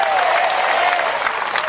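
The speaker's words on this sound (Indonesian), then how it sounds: "Jangan cuma tepuk tangan aja" A crowd at a religious sermon claps together in a brief, dense burst of applause, close and steady, with a faint voice under it.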